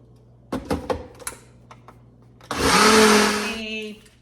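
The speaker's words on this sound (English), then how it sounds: "All right, blend it up in the blender." A countertop blender whirs steadily through cottage cheese with a pinch of salt for about a second, loud and close, after a few clattering knocks of setting up in a kitchen.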